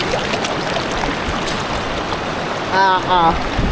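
Broad steady rushing of strong river current fills the scene, a continuous wash of water noise close by, with a brief voice breaking in near the end.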